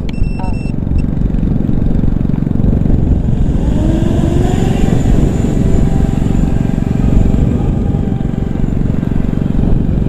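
A 7-inch drone powered by a DIY Li-ion battery takes off outdoors, its propellers giving a loud, steady whine that rises in pitch partway through, with continuous wind noise underneath.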